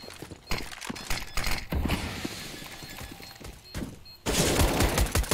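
Gunfire and weapon handling in Counter-Strike on the map Mirage, mechanical clicks and scattered shots that build into a loud burst near the end, with no talk over it.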